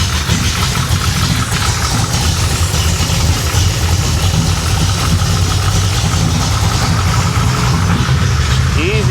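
A 560hp Chevrolet Impala engine runs steadily with a loud, continuous low rumble, its choke still closed, while people talk over it inside the car.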